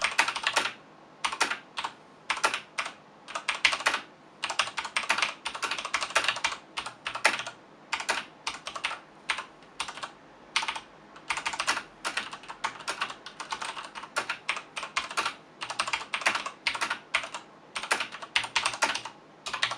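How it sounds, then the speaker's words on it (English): Continuous typing on a Perixx MX 5200 mechanical keyboard with Cherry MX Brown switches, quick, crisp keystrokes in irregular bursts and brief pauses, recorded close and moderately loud, with no talking. "let you hear how this keyboard sounds using the built-in camera"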